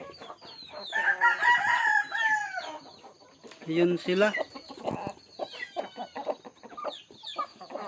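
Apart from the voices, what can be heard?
young chickens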